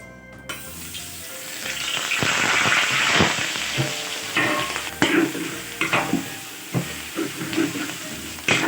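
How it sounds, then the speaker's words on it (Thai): Minced pork hits a hot pan for a dry stir-fry, bursting into a loud, close sizzle that swells and hisses while a spatula scrapes and knocks against the pan in uneven strokes. "ขั้นตอนนี้เราก็เอาหมูลงไปลวนกันนะคะ"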